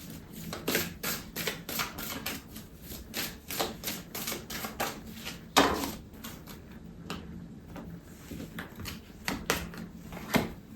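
Tarot and oracle cards snap and riffle in rapid, repeated taps and flicks as the deck is handled and laid out, close and moderately quiet with no voices.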